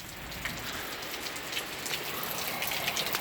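Mixed rain and snow falls steadily outdoors, giving a soft, continuous hiss with scattered drop patters on nearby surfaces and no voices.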